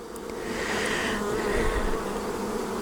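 Honeybees swarm around honey super boxes fitted with bee escapes, giving a steady, close, continuous buzzing drone that holds throughout without any talking.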